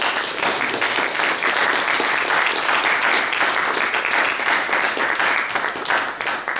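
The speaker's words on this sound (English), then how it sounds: "So let's give Dr. Kirksey a big round of applause." A crowd applauds steadily after a lecture, a thick wash of clapping hands that holds at an even level throughout and tapers slightly at the very end.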